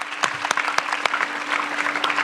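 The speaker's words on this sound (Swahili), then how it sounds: "Makofi yake tafadhali anapokaribia." An audience at a students' career fair in Kiharu claps steadily as a regional chairman is welcomed to the stage, with a dense, even patter of hands and a few sharp louder claps up close.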